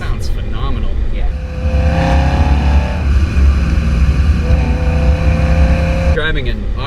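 A 2011 BMW M3 V8 with Dinan bolt-on upgrades runs under steady engine drone while driving in automatic mode, loud and continuous beneath ongoing conversation from the cabin.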